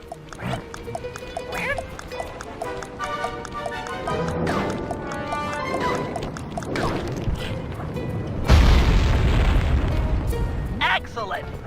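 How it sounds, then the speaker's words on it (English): Dynamite exploding and destroying a balloon anchor in the Sly 3 video game, a loud broadband blast late in the stretch, preceded by game music and effects with speech mixed in. "Place the dynamite when you get near the anchor, or kaboom!"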